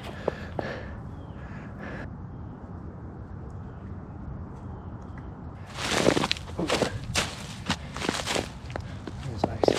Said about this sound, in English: There's a bunch of birds out here.